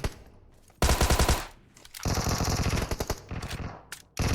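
Automatic weapon fire in PUBG Mobile comes close and loud in two long sustained bursts, with a sharp restart at the end and no talking.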